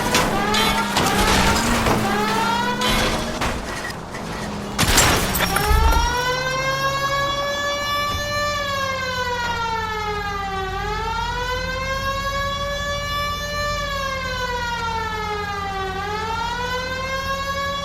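A police car siren in L.A. Noire wails steadily over a low engine hum, rising and falling in long smooth sweeps, loud and close after a brief burst of clatter and impacts at the start.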